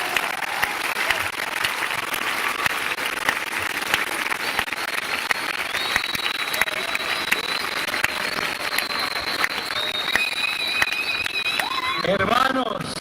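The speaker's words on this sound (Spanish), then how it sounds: "Un aplauso a Jesús maravilloso" Church congregation applause rolls on steadily for the whole stretch, dense clapping with scattered sharper claps, and a voice breaks in near the end.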